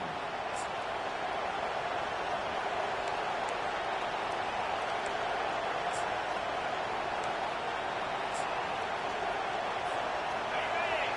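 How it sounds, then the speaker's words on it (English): Steady, dense roar of a college football stadium crowd, loud and continuous throughout with no breaks, a constant wash of massed voices under play-by-play commentary. "The roar of the crowd trying to fuel this defense"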